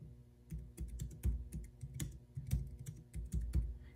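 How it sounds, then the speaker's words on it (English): Rapid keystrokes on a Jelly Comb foldable Bluetooth keyboard, used with an iPad, clatter in an uneven burst of sharp clicks and soft thuds, close and moderately quiet, with no voices. "You can see there exactly what I typed on the keyboard is exactly what came up on the iPad."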